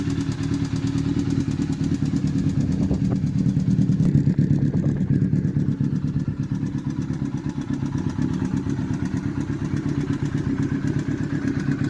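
A 2004 Honda CBR1000RR motorcycle engine idles close by with a fast, even pulsing rumble and a light clattering noise from the motor, steady and alone.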